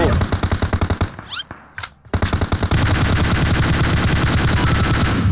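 Rapid bursts of automatic gunfire from a shooter in the mobile battle royale game PUBG Mobile, loud and close, with dense rattling volleys, a short lull, then sustained continuous firing to the end.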